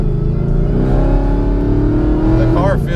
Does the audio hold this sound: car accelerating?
yes